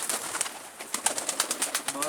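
A captured blue pigeon flutters and beats its wings in a rapid series of sharp flaps while being handled close by, with some bird noise alongside.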